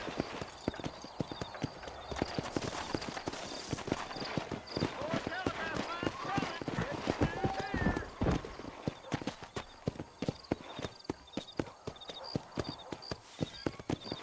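Horse hooves clip-clopping at a trot in the Red Dead Redemption western video game, a steady rhythmic patter with an occasional whinny, under a voice urging the horse on and game music.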